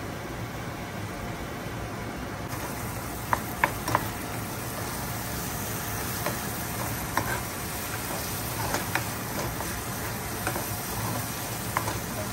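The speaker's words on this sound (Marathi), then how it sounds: "दही जे आहे ते ॲड करतोय." Whisked yogurt added to hot oil in a pan while cooking egg korma, heard as a soft, continuous sizzle with scattered scraping clicks of stirring, fairly quiet and without talk.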